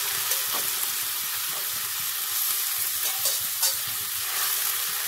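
Grated potato frying in a pan makes a loud, even hiss and sizzle throughout, with faint stirring scrapes and a few light knocks underneath.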